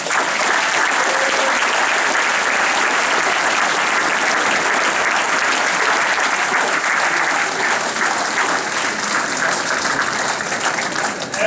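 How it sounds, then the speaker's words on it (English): A crowd at Huber's gives loud, sustained applause for a college football team, a dense continuous roar of clapping that holds steady for over ten seconds with no talk over it. "Just give these guys a big round of applause."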